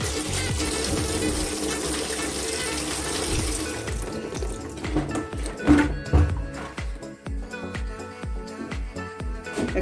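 Dirty water pours and gushes out of a net during cleaning, a steady dense splashing flow for about four seconds, then thinner intermittent splashes and drips with small knocks.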